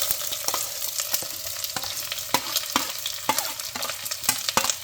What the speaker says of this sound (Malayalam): ഇത്രയും സാധനത്തിൽ നമ്മുടെ ഉലുവ ഇട്ട് കഴിയുമ്പോഴേക്കും നമ്മൾ എല്ലാം ഒന്നിച്ചങ്ങിട്ട് വഴറ്റുകയാണ്.